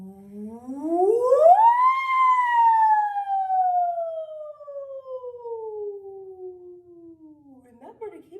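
A single voice imitates a siren as a vocal warm-up, sliding up in pitch, then gliding slowly downward in one long sustained wail, clear and fairly loud with no other sounds.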